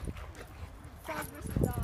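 Dogs play together at a dog park with scuffling, yips and short whimpering barks, mixed with nearby voices talking throughout.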